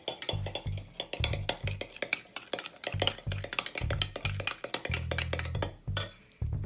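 A spoon stirs honey into a treat mixture in a bowl, making repeated clinking and scraping strokes in an irregular rhythm, close and moderately loud, with no talking.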